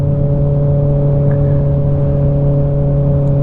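A 2024 Kawasaki ZX6R 40th Anniversary motorcycle with an aftermarket exhaust holds a steady, loud, close engine drone at constant pitch, without distinct revs.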